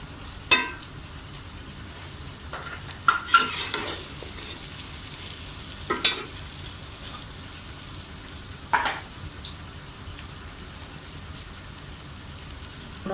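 Chopped green chillies tossed into a pan of frying stuffed okra, a steady soft sizzle broken by several sharp stirring clatters and scrapes, close up with no talking.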